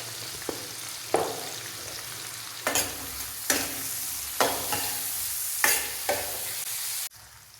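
Broad beans and tomato pieces fry in oil in a pan with a continuous sizzle, punctuated by repeated clanks and scrapes of stirring at irregular intervals, close and fairly loud.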